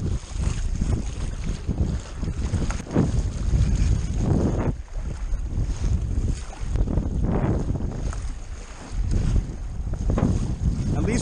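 A small sailboat sails in strong wind on Lake Manitou, heard as continuous heavy wind buffeting and rushing water, loud and close throughout.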